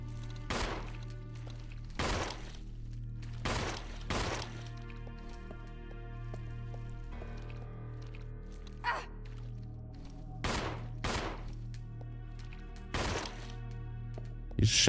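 Gunfire in the video game Resident Evil Zero cracks out in sharp, separate shots, about ten of them in irregular bursts, over a low steady hum from the game.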